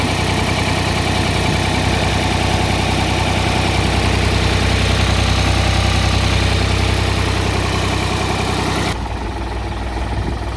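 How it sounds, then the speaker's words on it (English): Farm tractor engine running steadily and loud, a constant low rumble with heavy vibration throughout, dropping abruptly in level near the end as the sound cuts to a quieter engine drone. "So there's me on my tractor."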